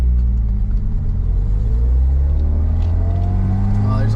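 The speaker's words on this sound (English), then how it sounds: "It's got a great exhaust leak, so it sounds pretty good." A custom-exhausted Datsun 280ZX idles with an exhaust leak, giving a steady, loud low rumble with a faint rise in pitch near the end, close by.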